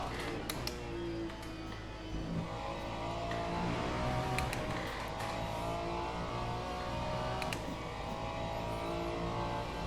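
A Ferrari 296 GT3 race car engine in the Le Mans Ultimate sim at Monza drones with a steady, high-revving tone that rises and shifts through gears, with faint background clicks and no voices.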